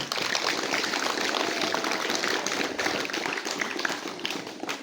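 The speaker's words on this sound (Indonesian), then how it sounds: "Kita tepuk tangan." Dense, steady applause from a gathering of students and teachers at a Monday school flag ceremony at SMK Negeri 1 Wangkaka. The clapping stays continuous and fairly loud throughout, with no pause.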